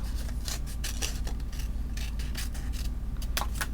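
Scissors snip steadily through paper, cutting a Merry Christmas piece out of a card page for a Christmas card craft; a run of close, crisp, rhythmic cuts over a soft background hum.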